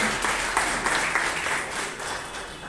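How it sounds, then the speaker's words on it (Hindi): Steady applause from an audience at a gathering honouring army veterans, a dense, continuous patter of many hands clapping with no voices standing out. "चलिए एक बार जोरदार ताली होना चाहिए सर।"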